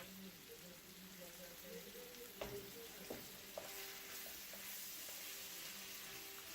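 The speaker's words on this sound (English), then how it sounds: "So we're going to add all our meat, and then we're going to let this fry up" Chicken pieces fry in a pot for Jamaican curry chicken, giving a continuous close sizzle and crackle with a few clunks from stirring.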